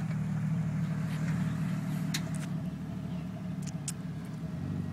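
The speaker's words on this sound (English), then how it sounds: "James is gonna do donuts." A car engine runs steadily close by as it revs through donuts on a hill, a constant low rumble filling the scene with a few faint higher squeals over it.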